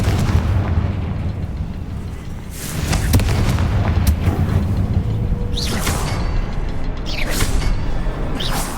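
Confringo fire spell blasts in the Hogwarts Legacy video game, loud booming explosive bursts over a dense rumbling background, with several sharp cracks and whooshes in the later seconds and no talking.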